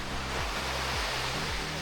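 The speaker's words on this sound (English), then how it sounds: "now we're at the top of the waterfall" Rushing water roars steadily at the top of a Blue Mountains waterfall ledge, a dense, unbroken wash of broadband noise, loud and close with no pauses.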